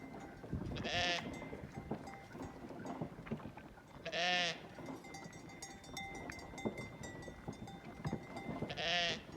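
Sheep bleat three times at spaced intervals, each call loud and wavering, over a constant busy background of rustling and distant farm noise.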